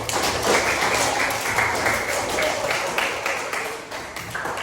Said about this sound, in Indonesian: Oke, tepuk tangan dulu untuk semuanya.